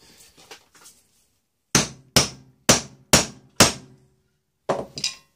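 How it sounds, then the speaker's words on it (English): Five sharp, loud hammer blows strike a metal leather punch on a workbench in a steady rhythm, close up, with a quieter pair of taps afterward and no talking. "Let me get my hammer."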